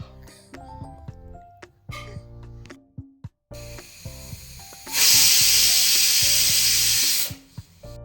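A pressure cooker whistles loudly as it vents steam while carrots boil inside, a sustained bright hiss lasting a couple of seconds that stands out over quieter kitchen noise and background music.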